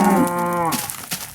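A Minecraft cow in the Alpha 1.2.7 version gives one long, loud, close moo that slides down in pitch and then fades into faint game background sound.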